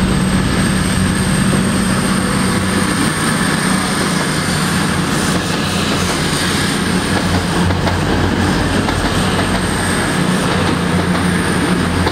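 A train bound for Nottingham rumbles past at close range, loud and steady, with grinding wheels and a faint high squeal throughout.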